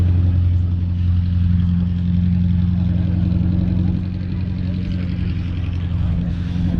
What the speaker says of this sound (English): that is the sound of the V8 in an MGB.